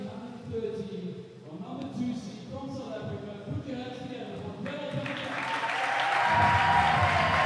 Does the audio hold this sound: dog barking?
no